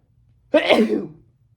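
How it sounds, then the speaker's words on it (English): A single close, loud sneeze bursts out after a moment of quiet, then fades away. "I'm gonna sneeze."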